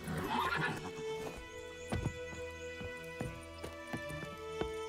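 Roach the horse from The Witcher 3 whinnies loudly and close in the opening second, its call trailing off, followed by a steady clip-clop of hooves beneath game music.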